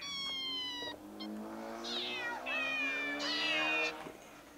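A Nintendo Labo Toy-Con piano plays synthesized cat meows, several rising and falling mews in sequence, clear and fairly close, with no talking.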